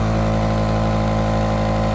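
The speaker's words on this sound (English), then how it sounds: "this is our compressor, and all it does is just make air" Nebulizer air compressor running loud and close, a steady droning motor hum with a dense buzzy rattle that stays constant throughout, no voices.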